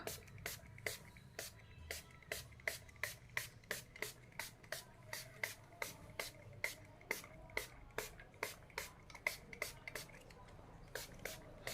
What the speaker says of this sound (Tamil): இப்படி ஸ்ப்ரே பண்ணி விட்டோம்னா அது பபிள்ஸ் ஃபுல்லாகவே அடங்கிடும்